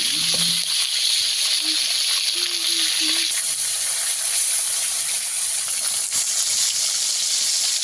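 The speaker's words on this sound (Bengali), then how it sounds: "একইভাবে এই মাছগুলোকেও ভেজে নেব।" Pieces of snakehead fish frying in hot oil, a continuous hissing sizzle close by, with a few brief tonal sounds in the background early on.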